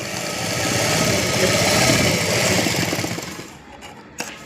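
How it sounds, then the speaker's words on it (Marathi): A sewing machine stitches tucks on the back of a blouse, running in a loud, fast, continuous mechanical whir close by before stopping abruptly near the end with a small clack. "आणि त्यानंतर आपल्याला ह्या मार्किंग वरती शिलाई मारून घ्यायची। बघा अशा पद्धतीने शिलाई मारून घ्यायची सरळ।"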